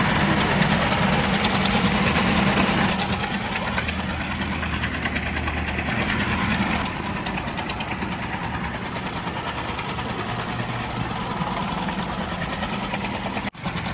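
Small portable outboard motor, Mercury or Yamaha, still running after its fuel is cut off, a buzzy, rattling idle that holds steady and loud, dips slightly partway, then cuts out abruptly at the very end.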